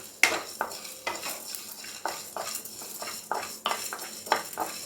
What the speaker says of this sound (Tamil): எண்ணெய் எதுவும் சேர்க்கலை, ட்ரையாக வறுத்துக்கலாம்